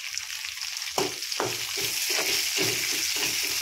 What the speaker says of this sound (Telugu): కరివేపాకు వేసుకోవాలి ఫ్రెండ్స్.